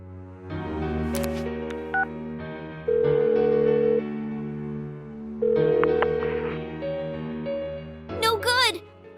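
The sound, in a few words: phone dialing a call in Persona 4 Golden video game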